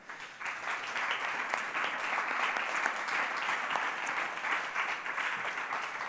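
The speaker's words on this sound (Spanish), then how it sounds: "Otro aplauso para" A crowd breaks into sustained applause, a dense even wash of many hands clapping that holds steady throughout.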